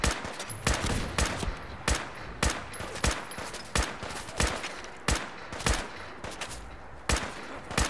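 Gunfire in the video game Fallout 4: a dozen or more sharp, loud shots fired at an uneven pace, each with a short echoing tail, and no talking.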